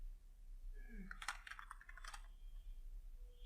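Someone types on a computer keyboard, producing a quick cluster of close clicking keystrokes in the middle of an otherwise quiet stretch, with no one speaking.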